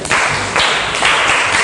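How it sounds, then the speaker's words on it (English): Primary schoolchildren clapping together in a Nigerian classroom, three quick bursts of loud group applause in a row, close and with no talking. "Clap for yourself."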